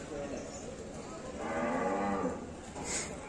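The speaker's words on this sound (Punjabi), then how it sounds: "ਇੱਧਰ ਵੀ ਆ ਮੱਝ ਦੇਖ ਸਕਦੇ ਹੋ ਤੁਸੀਂ ਬਹੁਤ ਵੱਡੀ ਹੈਗੀ" Buffalo lowing at a busy livestock market, a long, loud moo rising in the middle of the clip over steady crowd murmur and background noise.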